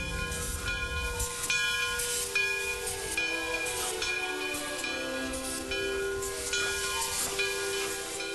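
A 1918 steam locomotive running at a museum, steady loud hissing of steam with tonal whistle-like hums layered through, no voices.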